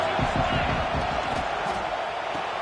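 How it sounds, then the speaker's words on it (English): A stadium crowd roars at an NCAA 25 college football game, a steady loud wall of noise with low thumping and a brief spoken voice over it. "This crowd trying to make life miserable for this offense."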